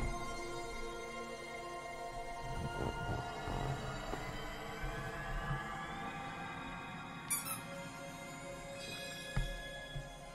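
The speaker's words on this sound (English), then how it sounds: "Just squeezing a squeaky toy for our puppy." A squeaky puppy toy is squeezed several times, giving faint, short squeaks over a steady bed of quiet video-game music.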